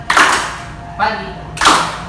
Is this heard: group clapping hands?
yes